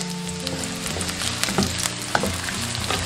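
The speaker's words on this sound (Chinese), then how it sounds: "一定要中小火炒，把它们的味道全部炒出来" Garlic, ginger, shallots, onion, star anise, bay leaves and cinnamon stir-fry over medium-low heat in a little oil, a steady close sizzle with occasional soft scrapes and clicks of stirring.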